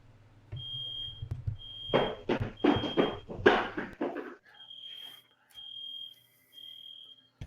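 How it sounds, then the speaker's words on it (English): An indoor fire alarm or smoke detector chirps repeatedly in short, high, steady beeps, first under loud knocks and scraping noises and then more clearly on its own with pauses between the bursts. "I'm hearing a fire alarm."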